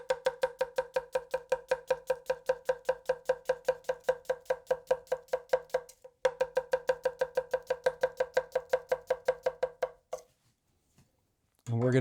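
Tap chopping an onion with a Takayuki VG10 Nashiji nakiri knife, a long fast even run of crisp blade knocks on a board, pausing briefly midway and stopping near the end.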